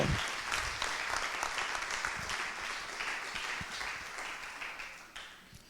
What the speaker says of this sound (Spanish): Dale un aplauso al Señor. Un poco más fuerte, por favor.